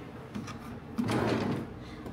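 A drawer in a hotel room slides open with a soft rumble and a knock, quiet and close, with faint room noise around it.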